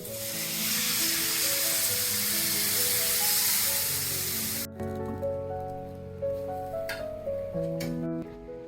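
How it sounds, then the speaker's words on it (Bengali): Water poured into a hot pan of crab cooking with pumpkin and pumpkin greens gives a loud, close hissing sizzle that cuts off abruptly halfway through, leaving quieter steady tones and a few soft clicks. "আমি জল দিয়ে দিচ্ছি"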